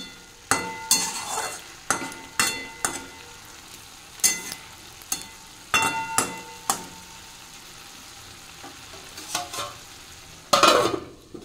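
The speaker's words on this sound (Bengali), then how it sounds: "বিট আলু ভাজা করছি এখানে" Beetroot and potato frying in a pan, a soft constant sizzle broken by a dozen or so sharp metallic scrapes and clinks of a spatula stirring at irregular intervals, close up and without speech.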